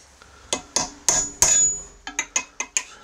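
Hammer blows strike a steel chisel wedged between stuck riding mower parts, a dozen sharp metallic clinks with ringing tails, spaced irregularly then quickening into a rapid run near the end.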